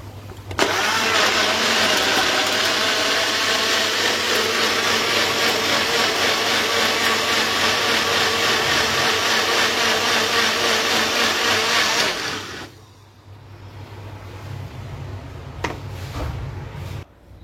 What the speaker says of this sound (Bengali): তা সেটা তো বানাচ্ছি 11-র এই 3 জার পার্সোনাল ব্লেন্ডারটা দিয়ে।